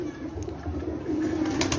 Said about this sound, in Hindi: इसका जो पहले कबूतर दिखाया ये उसकी माँ है माशाल्लाह, चैंपियन कबूतर की माँ